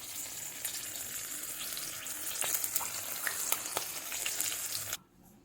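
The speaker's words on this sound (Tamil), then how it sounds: "இப்போது இந்த கருவேப்பிலையும் நான் இதில் ஃப்ரை பண்ணி எடுக்கிறேன்." Curry leaves frying in hot oil for crispy black-eyed pea vada, a steady loud sizzle with bright crackling pops that cuts off abruptly near the end.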